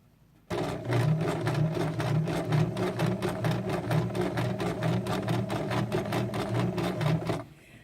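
A sewing machine stitches a fabric tote in one steady run of rapid, evenly spaced needle clatter with a humming motor, starting abruptly and stopping near the end, close and alone.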